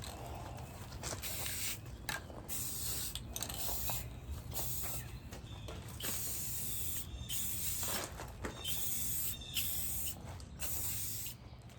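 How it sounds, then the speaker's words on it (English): An Earlex 5500 paint sprayer hisses steadily while coating a set of nested tables, a loud close spray broken by short trigger pauses and faint mechanical clicks, with no talking. "I'm getting ready to spray the nested tables"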